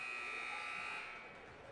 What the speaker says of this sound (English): and buzzer.